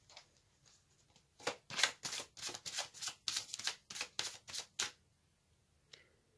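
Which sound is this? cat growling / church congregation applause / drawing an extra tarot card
drawing an extra tarot card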